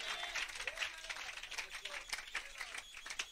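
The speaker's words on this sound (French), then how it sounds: "Donnez des mains d'acclamation au Seigneur." A church congregation claps their hands in a dense, steady patter that fills the room, with voices mixed into the clapping.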